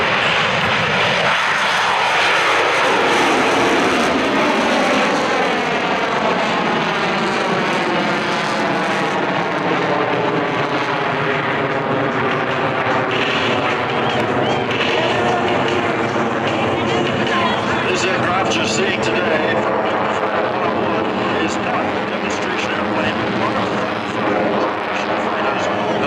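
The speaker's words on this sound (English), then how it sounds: "The Tomcat is at the end of the runway, getting ready to take off." A US Navy F-14B Tomcat jet roars loudly at an air show as it takes off, a sustained powerful engine howl with shifting, sweeping pitch that fills the whole stretch, while a commentator talks over it.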